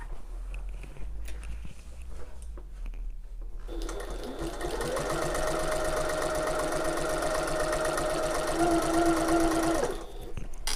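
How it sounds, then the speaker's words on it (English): A sewing machine stitches an open-top tote bag at a slow, steady pace, a close, whirring mechanical drone with a fast regular needle beat that starts after a few seconds of handling and stops near the end. "I thought it was very slow stitching"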